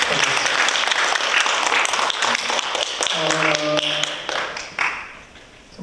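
Applause at a church service welcoming returning members back into the congregation, with scattered taps and claps in a busy, fairly loud room, some voices and brief tonal sounds mixed in.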